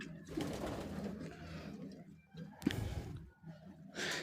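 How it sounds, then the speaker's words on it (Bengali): Colourful wild pigeons, resembling Jalali pigeons, coo in low, soft, repeated calls over a steady background murmur for several seconds. "এই যে দেখেন কত সুন্দর কালারের বুনো কবুতর দেখতে অনেকটা জালালি কবুতরের মতো"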